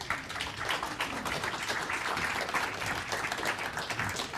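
An audience applauds after a talk on UFOs and alien encounters, with dense, steady clapping heard from a moderate distance and no speech.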